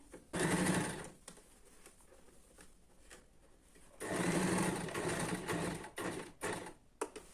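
A sewing machine stitches a chudidhar top in two longer whirring runs, each about a second or more, separated by quiet pauses. Several shorter bursts of stitching follow near the end.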